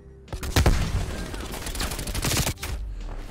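Bursts of automatic gunfire from Call of Duty: Black Ops Cold War, loud and close, with a dense rattle through the middle and a sharp break near the end, all over a steady game backdrop.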